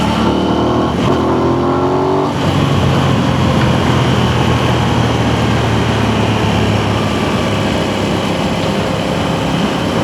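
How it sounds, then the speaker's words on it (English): An Aprilia Tuono 660 motorcycle engine rumbles loudly and steadily throughout, with a rising rev near the start and then a sustained, throbbing drone with no talking. "it also has this very interesting rumble"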